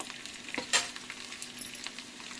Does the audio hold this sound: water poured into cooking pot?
no